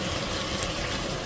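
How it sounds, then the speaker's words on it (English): Bourbon sizzles and hisses as it hits a hot pan while deglazing meatloaf drippings, a brief steady wash of bubbling close by. "A little bourbon. I'll deglaze the pan as well."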